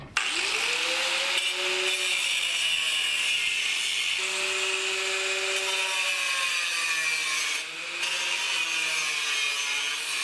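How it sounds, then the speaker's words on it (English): A power tool grinds a caster off a part on a 1989 Dodge truck during a 440 engine swap, a continuous loud whine with shifting pitch as the tool loads and eases, running nearly the whole time. "So I'm gonna grind this off, then take the one off there,"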